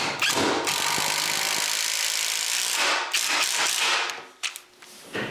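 A power drill drives screws to fix a bathroom vanity top in place after pilot holes are drilled, giving bursts of whirring motor and ratcheting clutch, with a brief pause and short final spins.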